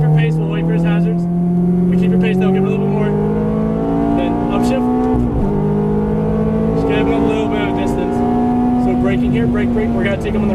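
A Ferrari F430 engine revs up loud and close with rising pitch, drops briefly at an upshift, then climbs again in the next gear, with faint clicks and road noise underneath.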